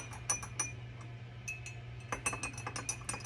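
Drink being mixed in a glass, with light clinks and ticks of a spoon against glass in an irregular rhythm over a steady low hum.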